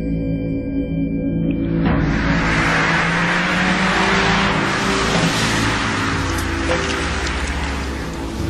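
A front-wheel-drive Ford Focus RS drives on Monte Carlo Rally mountain roads. Its engine drones steadily at high revs under heavy road and wind rush, loud and close from inside the car, with no talking.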